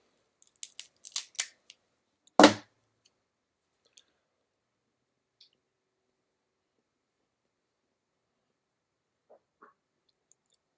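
A Puro Vida Connecticut Toro cigar is cut before smoking: a few light clicks, then one sharp, close snip of the cutter, followed by near silence with only faint ticks.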